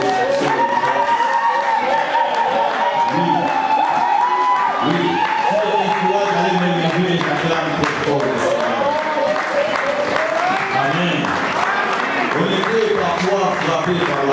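A church congregation on the last Sunday of 2021 bursts into sustained loud applause and cheering, dense clapping with whoops and shouts filling the room throughout.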